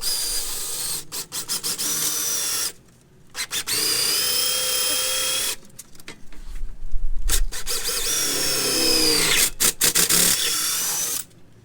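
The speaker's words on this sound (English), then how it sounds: "as I'm drilling vertically, doesn't fall into the chuck of my drill." Power drill boring vertically through foam slid over the bit, while installing a brace bundle on a Pontiac Solstice GXP: loud sustained whirring bursts, stopping and restarting several times with brief pauses between runs.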